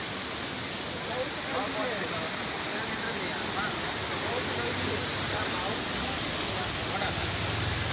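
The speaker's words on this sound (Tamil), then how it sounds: "கோயிலுக்கு நல்ல அருவி வருதுங்க." A steady, broadband rush of a waterfall in the Kadambur hills fills the whole clip, constant and fairly loud, with no breaks.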